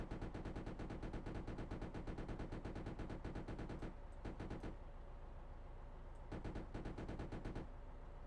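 Tank cannon and machine-gun fire in the video game Arms Trade Tycoon Tanks rattles continuously in fast, evenly spaced bursts with two brief lulls, sounding faint and distant.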